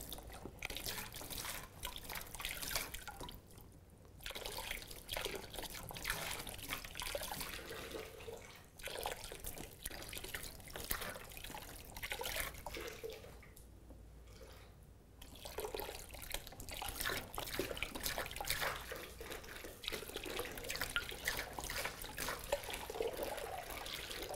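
Water slowly filling a drum and spilling into a small channel nearby, a steady trickling and dripping flow that runs continuously at moderate level, with no talking.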